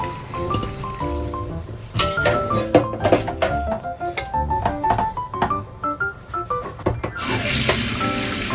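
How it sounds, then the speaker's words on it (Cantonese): Blanched lean pork is rinsed under clean running tap water in a kitchen, with steady splashing and trickling beneath background music. "瘦肉飛完水之後，用清水沖返乾淨佢，然後備用"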